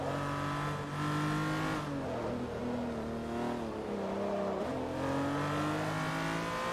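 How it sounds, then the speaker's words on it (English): A Lexus LFA engine in the video game Forza Motorsport 3 revs hard and steadily, its tone rising and dropping through several gear changes, loud and close with no talking. "if you listen to the LFA engine"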